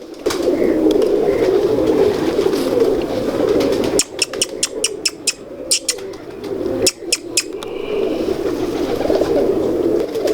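Pigeons coo steadily in a low, murmuring chorus, with sharp chirps and tapping bursts breaking in midway; no one speaks.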